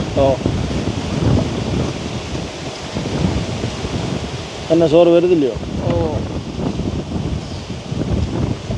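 Strong wind blowing outdoors in a village, a steady broadband rush across the whole stretch under close conversation.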